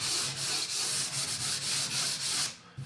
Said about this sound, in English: So give that a quick sand.